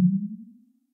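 A short synthetic bubble tone built from ten modes, a low pitch with a fluttering, slightly wavering texture, starting abruptly and dying away within a second.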